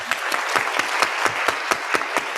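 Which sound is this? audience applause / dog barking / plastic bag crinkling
audience applause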